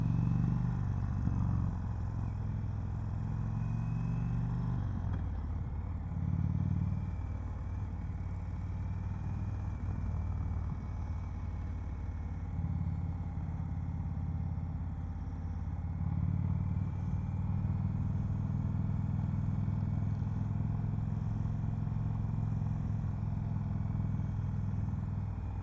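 Indian Springfield Dark Horse motorcycle on a test ride, its engine a steady low rumble close by, holding an even drone throughout with slight swells as the throttle shifts, no talking.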